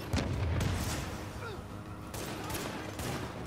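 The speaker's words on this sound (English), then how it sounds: "Looks like we've got grenades." Grenade blasts in The Division video game boom and crack at moderate volume, with several sharp booming bursts spread across a background of rumbling battle noise and no clear talking.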